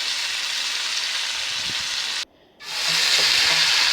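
Mashed bananas stirred and frying in a pan, a steady close sizzle with faint scraping, broken by a brief cut of near silence before the sizzling resumes even louder.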